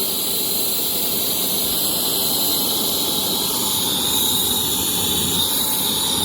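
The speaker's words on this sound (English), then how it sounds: "It's now the blower which does the job" The blower on a coal-fired LGB garden-scale live steam locomotive, DR 99 6001-4 by Walter Kolb, draws the fire with a steady, loud, unbroken hiss and high whine.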